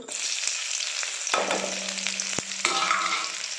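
Mustard seeds and garlic fry in hot oil, a close, bright crackling sizzle with a few sharp pops and utensil knocks against the pan.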